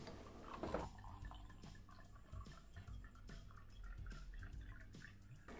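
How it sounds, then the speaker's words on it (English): Wine pours into a glass in a home kitchen while chicken stir fry is cooked, heard as a very quiet, close trickle with scattered small drips and splashes. "Let's pour the wine."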